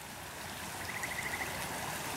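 Water flowing in a creek at night, a steady broad rushing and trickling heard from the bank, constant and moderately loud.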